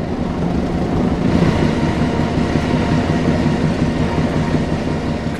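Diesel train moving in Train Sim World 2, Great Western diesel locomotive, a steady low engine drone and rolling rumble, continuous and fairly loud, with no voices.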